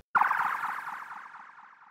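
Synthetic transition hit processed with ping pong delay and a thin radio-style EQ: a sudden bright attack followed by bouncing echoes that decay over about two seconds, heard alone.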